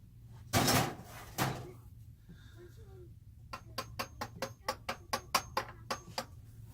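A screwdriver is worked against a stuck oil pan drain plug during an oil change, first two loud knocks, then a brief murmur of voice, then a rapid run of about a dozen sharp metallic taps.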